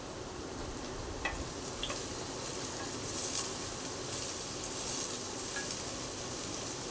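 Chopped spring onion sautéing in a pan for a prawn gravy, a soft, steady sizzle and light crackle that holds evenly throughout with a few faint ticks and stirring scrapes, no talking.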